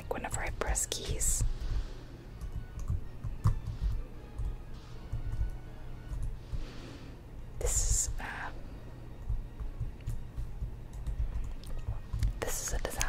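Computer keyboard keys pressed in quick irregular bursts, close and soft, beneath steady whispering while playing a Harry Potter Quidditch video game.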